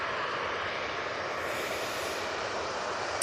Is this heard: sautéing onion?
no